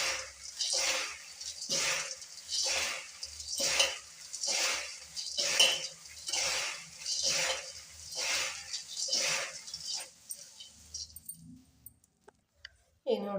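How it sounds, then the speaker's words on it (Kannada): Churumuri puffed rice with sugar powder is tossed by hand in a bowl, close rhythmic rustling swishes repeating about every second for ten seconds before stopping, with a brief voice near the end. "ಈಗ ಇದನ್ನು ಇನ್ನೊಮ್ಮೆ ಮಿಕ್ಸ್ ಮಾಡೋಣ"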